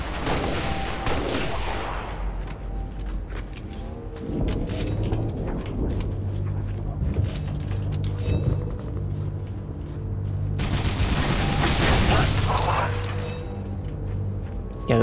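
Gunfire in the shooter game Halo Reach: a run of sharp weapon shots over a steady rumbling battle ambience, with a dense, loud stretch of firing near the end.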